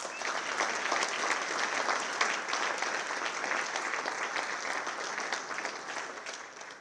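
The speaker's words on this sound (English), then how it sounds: "let's have one more round of applause for this outstanding class." An audience at a university athletics hall of fame ceremony claps steadily for several seconds, a dense, even wash of applause heard from within the hall without voices standing out.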